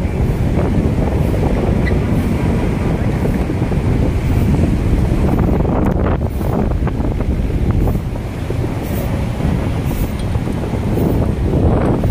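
Strong typhoon wind roars steadily across the microphone atop a footbridge by the Manila Bay seawall, with waves surging and breaking beneath it, loud and continuous with no voices.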